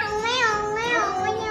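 A young child of about three imitates a cat's meow during a developmental screening. One drawn-out, tonal "meong" lasts over a second and a half, close and clear.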